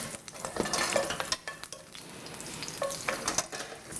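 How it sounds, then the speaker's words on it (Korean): Abalone stir-frying with salt in a hot pan during a Korean cooking class, giving soft crackling sizzle broken by scraping and stirring strokes, close and fairly quiet, with no talk. "소리가 이제 좀 나네요. 지글지글지글."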